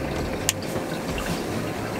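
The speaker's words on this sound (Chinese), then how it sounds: "试下个水声" A recorded water sound plays in a capsule hotel in Central, Hong Kong: a steady, even flowing-water hiss, fairly close, with one small click early on and no voices.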